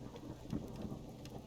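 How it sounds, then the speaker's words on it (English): Soft, steady patter of rain in the survival video game Subsistence, faint and continuous with a low rumble underneath, heard briefly and without voices. "Make sure they have fertilizer and the rain is doing its job."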